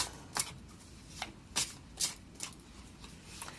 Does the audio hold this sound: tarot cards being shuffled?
yes